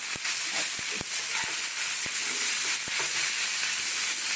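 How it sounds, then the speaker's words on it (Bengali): Capsicum and tomato fry in oil in a pan, a steady bright sizzle with scattered sharp pops and crackles, close and continuous throughout. "ক্যাপসিকাম আর টমেটো এটাকে একটু ভাজি"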